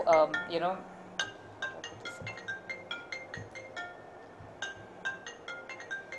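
A newly bought mobile phone rings in an indoor conversation, repeating a bright chiming ringtone in regular bursts of clinking tones after someone speaks at the start.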